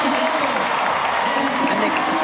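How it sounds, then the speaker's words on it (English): A stadium crowd at the World Athletics Relays in Gaborone roars and applauds for Senegal's men's 4x400m relay team, a dense, continuous wash of cheering with no breaks. "And the crowd is excited. They're cheering for Senegal."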